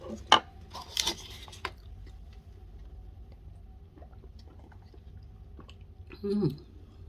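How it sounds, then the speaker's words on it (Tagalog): Chewing and slurping of Samyang cheese noodles during a mukbang, with a few close, sharp bursts early on and a louder wet slurp near the end over a low steady background. "Higop ulit tayo sa bawang."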